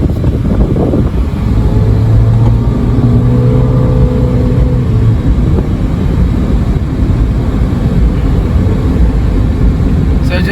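A $200 Honda Civic pulls through a left turn on a test drive with a loud, continuous engine drone mixed with road and wind roar, and a rising engine tone early on.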